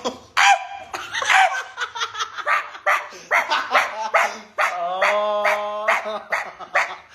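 A person imitates a dog, producing a rapid series of yelping barks and yips mixed with laughter, loud and close.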